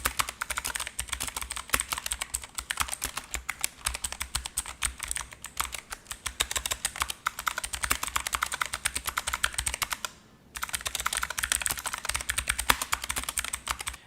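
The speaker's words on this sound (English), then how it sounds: "The keys are responsive and wonderfully clicky, and best of all, the blue switches are loud and satisfying." Continuous rapid typing on an ASUS TUF K3 mechanical keyboard with blue switches, loud sharp clicks in a steady close-up stream with one brief pause near the end.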